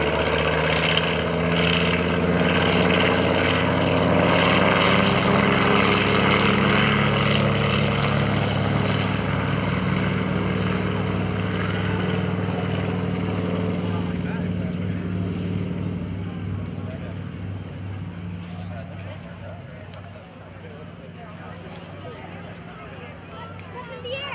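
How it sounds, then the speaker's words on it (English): A loud, steady drone of a TBM Avenger's radial piston engine at an airshow, running continuously, rough and throbbing, gradually easing off slightly toward the end. "there you hear the sound of a radial engine"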